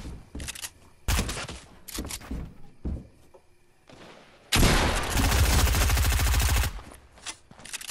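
SMG gunfire shooting bots in Fortnite, short scattered bursts at first, then a long loud continuous spray of rapid shots before trailing off.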